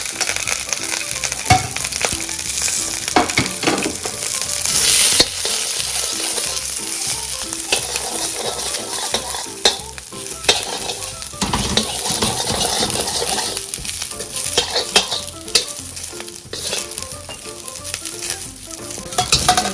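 Purple and green cabbage stir-fry over a high flame in oil. A loud, dense crackling sizzle runs without a break, and a utensil tosses and scrapes the shreds close by.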